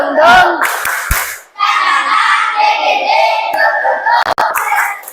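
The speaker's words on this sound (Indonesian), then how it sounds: "Tepuk semangat." Schoolchildren in a classroom perform the tepuk semangat clapping chant, a group of young voices calling out in rhythm with a few sharp, loud hand claps punctuating the chant.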